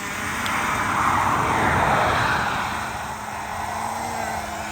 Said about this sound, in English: You see the drone is already travelling around and around and around on its own.